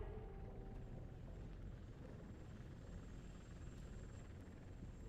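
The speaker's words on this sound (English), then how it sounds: "At least we have chopper support. Huh, no such luck. That's a TV helicopter." A TV news helicopter in the video game RoboCop: Rogue City drones steadily with a low, continuous rotor rumble that holds the same level throughout, with no talk over it.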